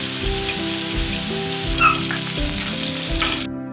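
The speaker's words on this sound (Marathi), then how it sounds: "त्यानंतर बाकीचे पण सगळे मासे फ्राय करून घेतले." Fish frying in oil at a home-style eatery, a loud close sizzle with a few stirring scrapes, running steadily before cutting off abruptly near the end.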